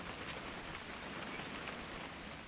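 Steady rain falls in the video game What Remains of Edith Finch, a dense, even patter with a few sharper drops near the start.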